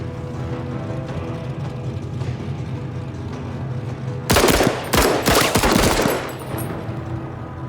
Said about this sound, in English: we can take another shot with the alternate fire